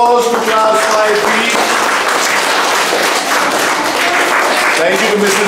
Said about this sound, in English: a big round of applause for class 5B